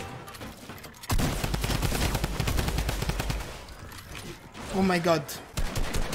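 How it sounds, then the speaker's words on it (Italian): Rapid gunfire and turret shooting in Fortnite, a dense, loud burst of automatic fire lasting several seconds, followed by an excited voice exclaiming in the middle of the action. "È sotto, sento sparare anche le torrette."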